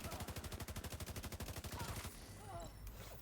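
Rapid sniper rifle gunfire in The Division 2 video game, a fast run of loud regular shots for about two seconds, then a quieter stretch of game ambience.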